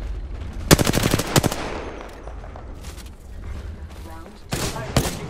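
Rapid automatic gunfire bursts in the video game Apex Legends, two loud rattling volleys early then a quieter gap before another short burst, with a voice speaking in between.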